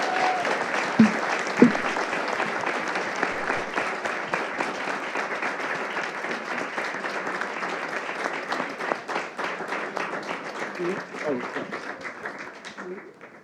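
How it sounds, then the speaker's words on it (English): An audience applauds a panel after a discussion on musical collaborations at an arts foundation event, with sustained, dense clapping that holds steady for many seconds, then tapers off near the end. "let's give our panel a round of applause and gratitude"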